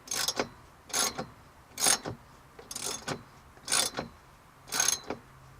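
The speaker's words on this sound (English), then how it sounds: "tighten everything up nicely. I hit myself in the face with a ratchet" Ratchet tightening a bolt on a BMW E36 M3 seat belt: six evenly spaced bursts of quick clicking, close and quiet, with short pauses between strokes and no talk.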